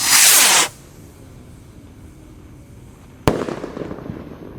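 A 1.9-inch Gold Dragon Roman candle firework rocket goes off at night during Ramadan, with a loud whooshing burst at the start, a quiet pause, then a sharp crack followed by crackling, hissing fallout.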